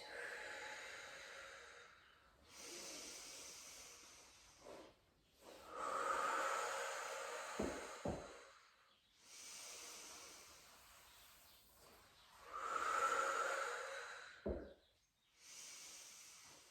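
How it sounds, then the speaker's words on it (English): Slow, deep breaths in and out during a mat exercise for older adults, each long airy breath swelling and fading in a regular rhythm with quiet pauses between. "breathing in, breathing out to extend, and breathing in as we come back in, breathing out"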